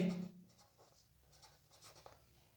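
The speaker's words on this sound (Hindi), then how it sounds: "यहां पे सेकंड कॉलम में लिखेंगे जवाद का नाम लिखेंगे" A pen writes entries into a purchase journal for an accounting exercise, leaving soft, faint scratchy strokes in short bursts, close and quiet, with no talk.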